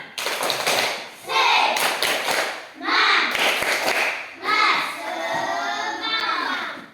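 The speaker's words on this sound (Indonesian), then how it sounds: "Nah, biar lebih semangat lagi, coba dulu tepuk semangat." Schoolchildren in a classroom perform a 'tepuk semangat' clapping chant, with bursts of patterned claps and taps mixed with their chanting voices, alternating between louder clapping phrases and short pauses.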